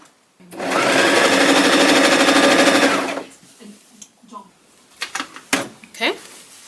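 A domestic sewing machine runs in one steady, loud burst of about three seconds while stitching the U-shaped seam of a simple fabric shoulder bag, followed by softer handling clicks and rustles.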